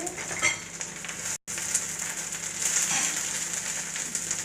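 Spinach frying in oil, with a steady broadband sizzle that continues throughout apart from one brief dropout, and faint scrapes of a utensil against the pan.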